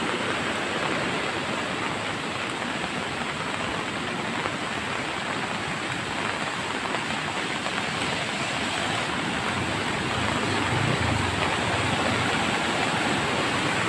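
Swollen river current rushing after heavy rain in Maco, Davao de Oro, a steady loud broadband roar of churning floodwater running unbroken throughout.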